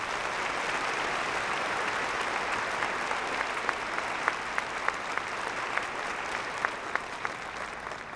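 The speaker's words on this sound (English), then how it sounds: "Let's give one final round of applause to both of our honorary degree recipients." A university commencement audience gives a sustained round of applause for honorary degree recipients, dense, even clapping from a large crowd with a few sharper individual claps standing out, continuing steadily throughout.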